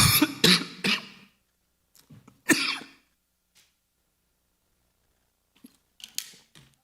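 Several people in a church congregation cough, a few sharp bursts close together at first and then scattered single coughs and throat clearing against near silence.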